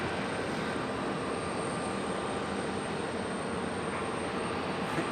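A FedEx plane departing Raleigh Durham airport produces a distant, even engine rumble that holds steady throughout, moderately quiet, with no voices.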